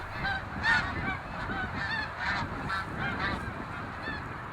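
Greater snow geese honk repeatedly in a loose, overlapping chorus, a series of nasal calls at moderate distance with no voices.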